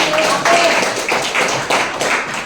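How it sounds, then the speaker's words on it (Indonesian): Audience clapping for a teacher at a school outreach session at SMKN 1 Tolitoli, a dense patter of hands in a room that swells in several waves, with some faint voices mixed in. "Tepuk tangan dulu Ibu Guru"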